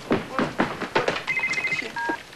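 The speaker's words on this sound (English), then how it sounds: "sounds like a mobile phone ringing" Mobile phone ringing in a TV comedy scene, bursts of electronic ring tones sounding briefly after several soft knocks or thuds, near and moderately loud.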